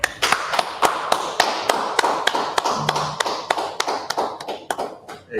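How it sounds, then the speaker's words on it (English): A small group claps hands in a steady, regular rhythm, about two claps per second, crisp and close, continuing for several seconds before trailing off unevenly. "All right, clap it up."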